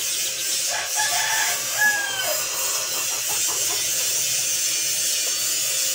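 A rooster used for sparring crows once and a bird clucks briefly, fairly faint over a constant high electric hum, with no talk.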